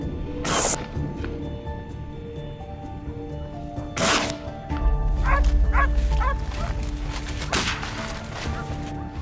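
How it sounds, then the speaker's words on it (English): Hunting dogs chasing a wild boar bark in sharp, loud bursts at intervals, some yips and whimpers between, echoing outdoors with rustling and thumps in the background. "the sudden barking of the dogs echoed through the area"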